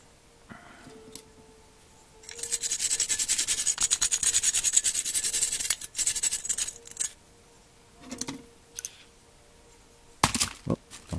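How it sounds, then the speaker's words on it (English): Wire brushing a toy car produces rapid, close, raspy scrubbing strokes in a sustained burst, followed by a few shorter scrapes and light knocks amid quiet. "when you're wire brushing"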